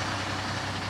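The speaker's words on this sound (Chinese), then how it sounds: "后面大货车挺吵的。" A large truck rumbles near a camper van parked by a roadside in the early morning. Its engine drone is low, continuous and even for the whole moment.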